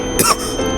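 A single short cough, quick and close, over a steady background hum, while playing the horror game Five Nights at Frickbear's 3.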